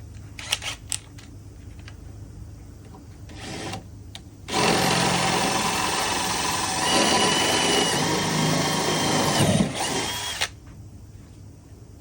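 A power drill bores holes in a fiberglass truck fender, with a few short bursts and clicks, then a long, loud, steady whine for about six seconds before it stops, close up.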